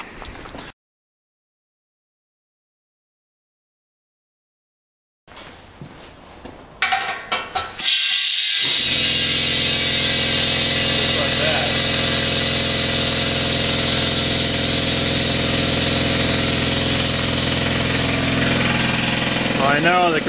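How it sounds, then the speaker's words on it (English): An air compressor runs loud and steady after a stretch of silence and a few clanks, filling an air tank through a quick-fill manifold, its motor hum and hiss continuing unbroken to the end. "I know the compressor's a little loud"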